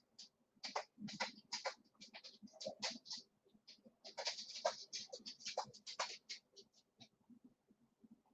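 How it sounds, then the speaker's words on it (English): Pencil scratching and scraping as it traces around a template on wood, irregular short strokes in quick succession, close but quiet, no talk. "So face down, and let's go ahead and trace it."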